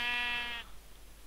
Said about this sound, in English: Stupid sheep, go away.